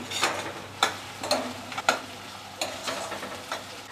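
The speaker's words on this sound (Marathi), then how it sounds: "आता त्यानंतर आपण आलं आणि लसूण ठेचलेलं घालूया. थोडंसं ना परतून घेऊया." Crushed ginger and garlic are stirred into softened onion and green chilli in a pan at home, soft sizzling with intermittent scraping and stirring knocks, close and without talk.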